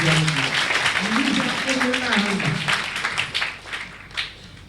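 Loud applause from an audience at a college event welcoming a speaker, a broad wash of clapping over a few seconds with voices talking over it.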